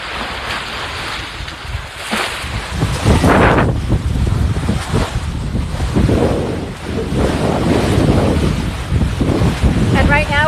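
Sailing under way off SW Florida aboard a 38-foot, 10-ton sailboat at about 7 knots, with steady wind buffeting the microphone over water wash and hull noise, continuous and fairly loud, and a voice briefly in the background.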